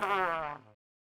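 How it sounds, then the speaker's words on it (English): A single short, buzzy fart lasting under a second, close and fairly loud, then silence. "Is that you farting?"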